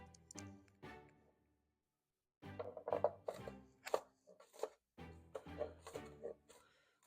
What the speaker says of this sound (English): I'm getting the onions all chopped up